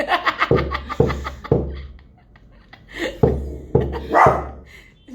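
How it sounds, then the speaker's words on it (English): A dog barks in several sharp, loud bursts, three in quick succession and then more after a pause, close by, with people talking around it. "Dog."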